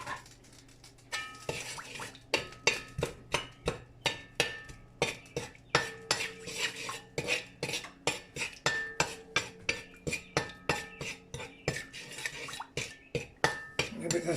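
A spoon scrapes and clinks steadily against a pot of curry goat, the rhythmic metallic strokes repeating close and clear with only faint background sound.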